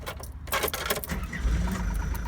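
A Leisuredrive Renoir camper van is started with its key: a few faint clicks and rattles, then the engine fires and settles into a low, steady rumble close by.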